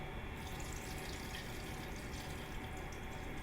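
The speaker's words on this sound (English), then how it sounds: "At this point, we'll add the rest of the water," A cup of water is poured steadily into challah dough in a mixer, giving a continuous close, dense gushing and splashing wash that stays even throughout with no talk.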